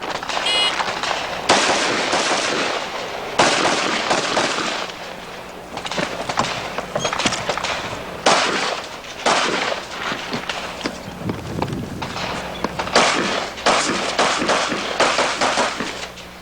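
Rifle shots fired on a shooting competition stage: a rapid string of loud, sharp cracks spaced a second or two apart, ringing out close by over a steady outdoor background.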